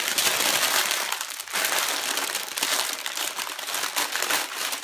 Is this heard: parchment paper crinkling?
yes